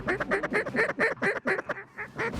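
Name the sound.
mallard ducks quacking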